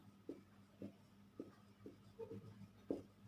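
Pen strokes on paper as Bengali compound-word examples are written out by hand, a series of short scratchy marks at an irregular pace, close and quiet, with no talk.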